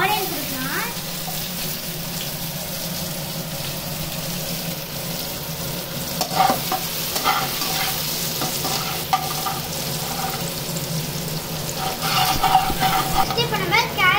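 Onion sizzles in oil in a kadai while being stirred, a continuous close frying crackle with scraping stir strokes and occasional clanks of the spoon against the pan.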